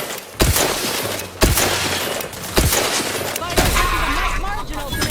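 Gunfire in The Outer Worlds 2 on PS5: a run of sharp shots and bursts spread over several seconds, with dense crackling impacts and breaking debris, while game voices speak alongside.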